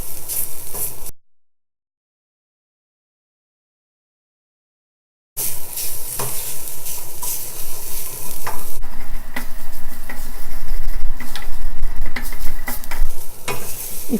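Grated coconut dry-roasts in a pan on the stove for curry paste, a loud, close, continuous rough scraping and stirring with a short gap of silence near the start, then steady gritty rustling and knocks.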